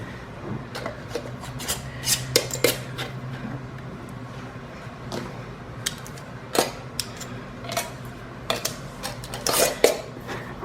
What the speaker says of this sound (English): Now we're going to put our lids on.